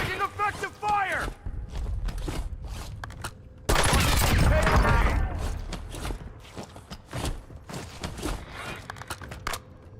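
Bursts of gunfire in the Warzone battle royale video game, sharp scattered shots with a loud dense volley midway, mixed with mechanical clatter, footsteps and in-game radio voice callouts.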